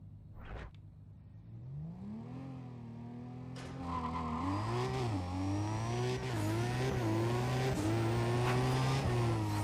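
A Pontiac GTO roars through a drag race in Need for Speed ProStreet. The engine revs steadily, with rising and falling gear pitches, tire screech and loud continuous acceleration, and no talk.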